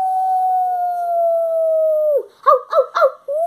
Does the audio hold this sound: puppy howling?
yes